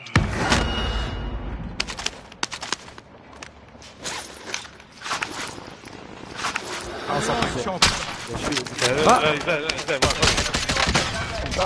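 Call of Duty Warzone Rebirth gunfire crackles in dense, rapid bursts and scattered shots, mixed with footsteps and gear rustle, while a player talks over the action.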